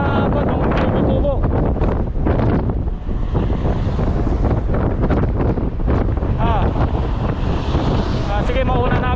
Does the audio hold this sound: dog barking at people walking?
no